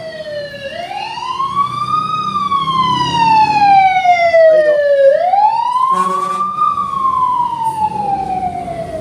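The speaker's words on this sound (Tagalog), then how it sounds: "Bumbero. Siguro may nasunog na naman dun." A fire truck siren wails, rising and falling loudly and close by, sweeping up and down in long cycles over low road rumble, with a brief horn-like blast midway.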